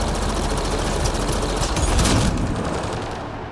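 Rapid, dense gunfire in the sci-fi video game Mass Effect: Andromeda, continuous automatic bursts and shots for about three seconds, then tapering off abruptly.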